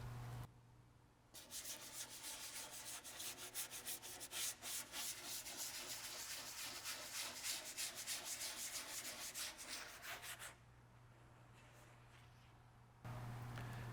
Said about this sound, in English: When you start sanding the capsule and the body, you want to make sure the surface has texture.